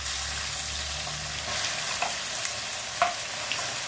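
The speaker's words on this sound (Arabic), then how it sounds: "هنحط بقى، نبدا نحط البصل." Chopped onions frying in corn oil in a pan, heard as a steady, close-up hiss and sizzle throughout with faint crackles and pops, no voices over it.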